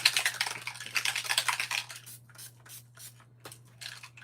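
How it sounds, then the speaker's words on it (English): A spray bottle is spritzed onto a handmade nautical-themed card, producing a series of short, close hissing bursts. They are dense at first and then spaced further apart, with no talking over them. "then we're going to spritz that"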